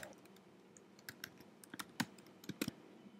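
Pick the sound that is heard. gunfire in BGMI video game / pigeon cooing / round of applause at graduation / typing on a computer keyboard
typing on a computer keyboard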